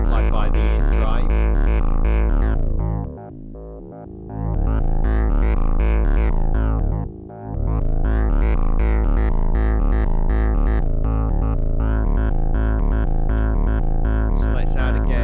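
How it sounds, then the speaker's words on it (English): Modular synthesizer tone distorted by a drive module, a loud buzzing harmonically rich sound with sweeping timbre that dips briefly twice before continuing. "You can hear the distortion applied by the in drive."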